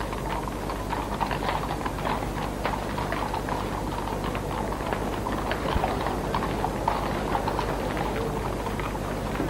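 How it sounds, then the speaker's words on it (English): Horses' hooves clip-clop steadily through a slow 1997 funeral cortege for Diana, a dense, continuous patter of many hoofbeats at moderate distance over a broad outdoor rumble, with no talk. "Prince Charles and the Duke of Edinburgh, were drawn slowly by the sound of hooves to join the cortege"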